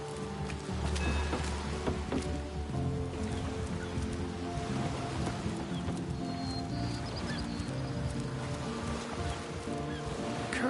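Steady rain falls in the fantasy role-playing game Divinity: Original Sin, a dense continuous wash with low rumbling beneath, constant throughout and without talk.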